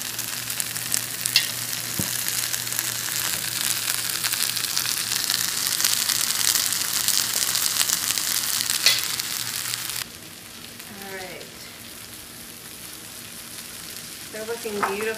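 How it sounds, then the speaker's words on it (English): Steady, loud sizzling of veggie burgers frying in a hot pan, a continuous crackling hiss that drops to a quieter sizzle partway through. "We're getting a good sizzle going."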